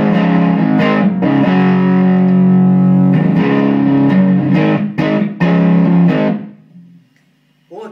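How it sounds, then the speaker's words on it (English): An electric guitar plays through a Giant Killer amp with a soft, warm distortion, sustained chords ringing out before fading to near silence at the end. "a nice soft distortion"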